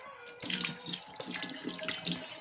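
Barnyard millet being washed in water by hand, close splashing and sloshing with running-water noise that starts suddenly and continues with irregular swirls and splashes.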